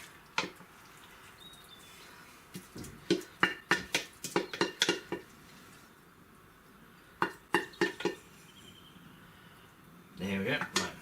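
Potato salad with bacon and chorizo spooned and scraped into a big bowl, a run of close clattering knocks and taps in quick bursts separated by quiet gaps.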